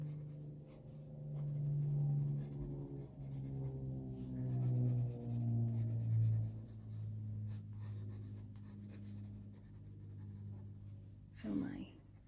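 A pencil scratches and rubs steadily across paper while drawing furry leopard ears, a soft continuous grainy stroke sound under a person talking, ending with a sharp brief scrape.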